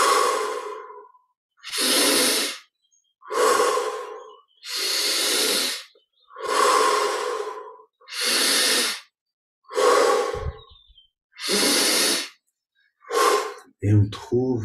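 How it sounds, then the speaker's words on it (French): Slow meditative breathing, drawn in through the nose and let out through the mouth, forms about nine long, evenly spaced breaths, close and clear, separated by short silences. "Inspire par le nez, expire par la bouche."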